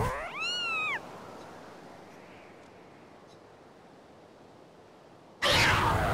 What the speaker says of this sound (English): Oh, what's this? It's a stray cat.